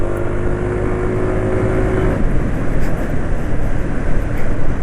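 Motorcycle engine revving hard under acceleration to build heat at the piston, a loud, steady close roar with a sustained whine that breaks into rougher, choppier revving midway, with no voices.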